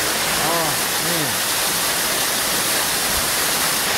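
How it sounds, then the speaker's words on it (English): A broad steady roar of falling water fills the scene at the Canada pavilion waterfall in Epcot, loud and constant, with a brief voice rising faintly under the rush early on. "Opens up this glorious waterfall."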